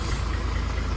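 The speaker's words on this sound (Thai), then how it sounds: "เสียงเดินเบานะ" Deep, even idle of a Hino Victor 240 truck's JO-family diesel, a close low chug that pulses steadily for a moment with no one talking.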